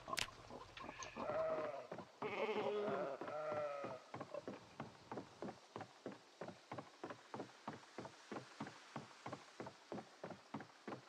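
Sheep bleating in the Project Zomboid video game, several long wavering bleats early on, then a steady run of short rhythmic clicks or footsteps over faint rain.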